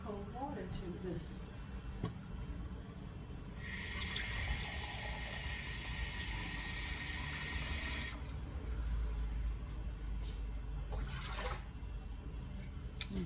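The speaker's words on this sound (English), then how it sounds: "And you're going to add 1½ cups of cold water to this." Cold water poured into a pot for spicy pickled beet brine, a steady rush of filling liquid lasting several seconds in a home kitchen, with a person talking before and after.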